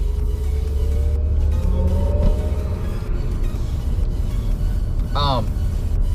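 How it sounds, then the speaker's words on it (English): From inside a Mercedes-Benz EQS 580 electric car, a loud, continuous low road rumble fills the cabin while the car accelerates, with a faint rising motor whine and a brief tonal sound near the end. "If you guys press the gas in this thing, it is ridiculous and will throw you in your seat."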